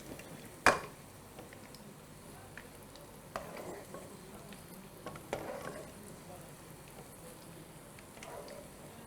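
Onions frying in a kadhai and being stirred, a steady low sizzle with a sharp scrape near the start and a few softer clatters of the spoon against the pan.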